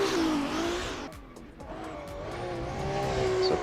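A racing-game car brakes hard and slams into a rival car on track, with a loud steady engine drone, a tire squeal easing off, and a sharp impact knocking the sound briefly down before the engine roars back up.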